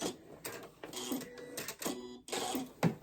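A home sewing machine lock stitching a shirt seam runs in short whirring mechanical bursts with brief pauses between them, close and moderately quiet.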